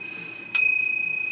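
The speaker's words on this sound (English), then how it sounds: "that's going to cause the bell to be louder" An IBM Selectric typewriter bell, adjusted to ring louder, strikes once with a sharp, clear ding that rings on and decays slowly, close and alone.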